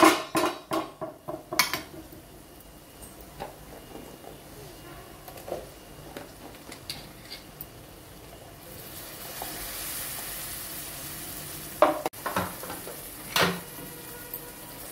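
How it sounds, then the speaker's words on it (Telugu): Drumstick (moringa) pieces tipped into a pan of frying masala for a moringa potato curry, then stirred: a few sharp metallic clatters and scrapes at the start, a steady sizzle in the middle and more spoon knocks near the end, close by. "ములక్కాయ వేస్తున్నాను।"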